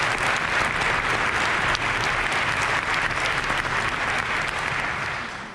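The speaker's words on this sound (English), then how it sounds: "Give them a round of applause, please." Concert audience applauding a percussion equipment crew, a dense, steady wash of clapping from a large crowd that holds throughout and fades slightly at the end.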